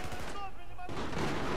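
Battlefield 4 gunfire in a dense, continuous burst of shots under game ambience, loud at first then dipping briefly before swelling again.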